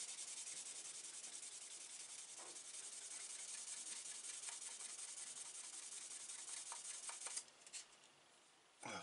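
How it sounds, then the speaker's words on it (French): Steady, close scratchy rubbing of abrasive sandpaper across a part of an Audi R8 LMS GT3 scale model, continuous for several seconds, then briefly pausing and resuming. "Donc il suffit de poncer."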